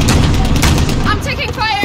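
Gunfire in Call of Duty: Modern Warfare (2019), a first-person military shooter: dense rapid shots and blasts crack loudly over a continuous battle din, with shouted voices over the fighting.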